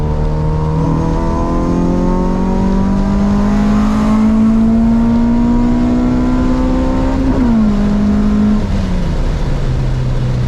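A Honda Civic hatchback with an H2B engine swap pulls hard in a 50 mph roll race, its engine note climbing steadily and loud inside the cabin, then dipping briefly at a gear shift before carrying on, with no talking.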